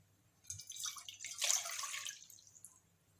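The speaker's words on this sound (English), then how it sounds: "I'm going to add 2 cups of water and a pinch of salt to it now" Two cups of water going into a cooking pan, ready for the salt. It sounds as a soft, quiet pour and trickle that rises for about two seconds and then fades, with no talk over it.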